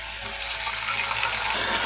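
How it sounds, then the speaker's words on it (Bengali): Tap water runs steadily into a kitchen mixing jar to rinse it out, a close, continuous splashing hiss with no voices. "মিক্সিং জারে অনেকগুলো লেগে আছে, সেই জন্য ধুয়ে দিয়ে দেব।"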